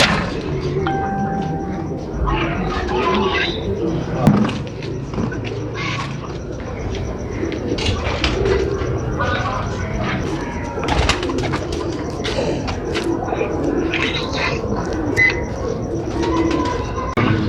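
A racing pigeon coos repeatedly in a loft, low soft throaty calls recurring throughout amid other bird sounds and rustling, with someone talking over it.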